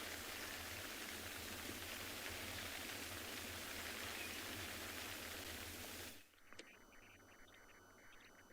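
Steady rain comes down at a sunrise safari in the wild, a dense even hiss that cuts off abruptly near the end, leaving quiet background with a faint tonal chirp.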